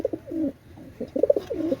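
Tulo pigeons coo up close in soft, repeated throaty phrases, a few calls overlapping in a short uneven rhythm.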